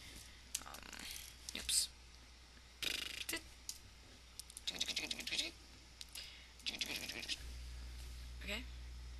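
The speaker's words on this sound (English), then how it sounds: "Password, I'll just type in a random password, actually." A password typed on a computer keyboard, with irregular bursts of close key clicks separated by pauses and quiet breathing in between.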